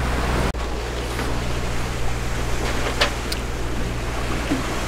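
A sailboat on passage from the Bahamas toward Charleston pushes through open ocean waves, a steady wash of water and wind with a low engine hum and a few faint splashes.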